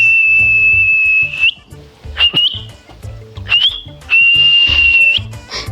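A person whistles loud, long sustained notes in several phrases with short breaks between them. Other sounds stay faint and low underneath.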